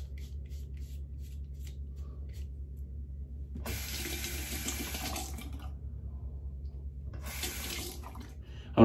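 Hot water from a sink tap runs in two separate bursts, a steady hiss a few seconds long each, in a quiet bathroom during a razor-rinsing routine with a Schick Quattro Titanium blade, over a low background hum.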